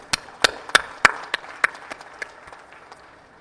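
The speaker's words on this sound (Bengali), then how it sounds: "হাততালি দিই" Applause at a formal Armed Forces Day reception breaks out in a few sharp, loud claps that build into scattered clapping, then gradually thin and fade away.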